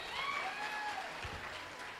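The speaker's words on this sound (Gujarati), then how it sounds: "ગામડાવાળા એકવાર જોરદાર તાળીઓ સાહેબ." A village audience at a Gujarati comedy show breaks into a steady burst of applause, dense clapping filling the room at moderate volume, with a faint whistle-like tone drifting over it.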